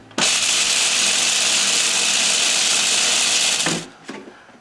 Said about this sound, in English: we'll take our food processor, put our pistachios inside of here, and we're just going to grind those down